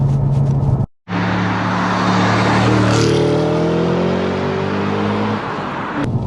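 The V8 engine of a mid-2000s Audi RS4 B7, four-wheel-drive performance car, heard from the cabin as a loud steady drone that climbs in pitch under acceleration, settles, then eases off, with a brief cut near the start.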